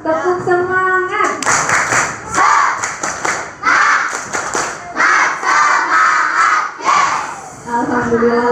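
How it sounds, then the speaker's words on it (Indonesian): A crowd of elementary school children at a small-doctor program opening perform a rhythmic spirit clap, chanting and shouting together in loud, close bursts of clapping and cheering. "Tepuk semangat dulu. Tepuk semangat."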